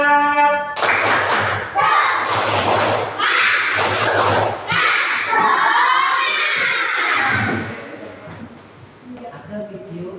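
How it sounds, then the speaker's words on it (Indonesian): A classroom of pupils performs a rhythmic spirit-clapping routine led by their teacher, in bursts of sharp group claps separated by short pauses. Children's voices chant along between the claps, and it ends with quieter talk. "Pakai tepuk semangat bersama-sama."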